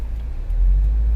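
A car driving along after a wheel alignment fix, a low steady road rumble and engine drone that swells slightly, continuous with no voices.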